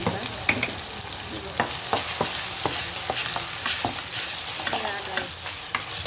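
Masala for a beans, carrot and potato gravy curry sizzles and fries in a pan while a spoon stirs it, giving a steady hiss broken by repeated scraping strokes from close by.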